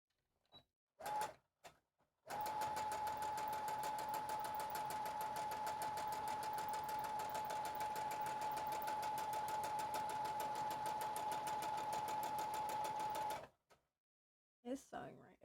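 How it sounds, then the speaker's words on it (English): A sewing machine stitches in one steady, rapid run of about eleven seconds, loud and close, with a few brief voice sounds before and after it. "It is sewing right."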